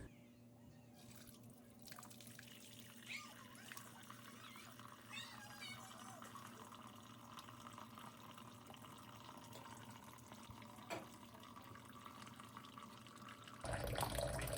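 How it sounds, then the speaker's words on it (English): Steady background hum in a quiet room with faint, irregular drips of liquid; a louder burst of noise arrives near the end. "let all that juice just naturally drip out"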